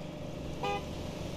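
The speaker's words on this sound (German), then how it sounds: "Tankwagen ist da, deswegen ist die Huperei." A tanker truck's horn gives one short, faint toot at a gas station in a simulator game, rising briefly over a steady low hum.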